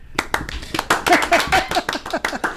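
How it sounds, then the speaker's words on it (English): Several people at a podcast desk clap in a short, uneven burst of distinct, close hand claps that overlap briefly, with a voice murmuring underneath. "I feel like we need to applaud for you or something"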